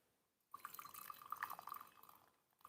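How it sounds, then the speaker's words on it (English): White peony tea infusion is poured out into a glass vessel, a brief, quiet liquid stream with a trickling, ringing tone that starts abruptly and tapers into drips. "Pour tea out."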